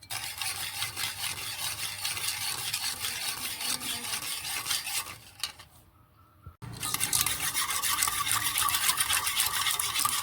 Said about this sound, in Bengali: চিনিটাকে ভালো করে গুলবার জন্য ভালোই হাতটা নাড়াচ্ছি।